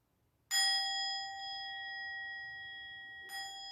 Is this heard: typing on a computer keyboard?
no